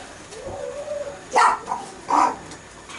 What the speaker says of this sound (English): that's our dog Maya.